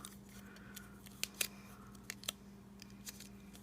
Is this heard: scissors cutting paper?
yes